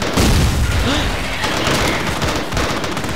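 A zombie explodes in the Battlefield video game: loud, dense booms mixed with rapid gunfire, continuous throughout.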